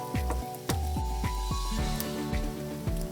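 Bacon and onions crackle in a skillet for a shrimp fried rice, a close, steady sizzle with repeated bursts of popping and hissing that continues throughout with no talking.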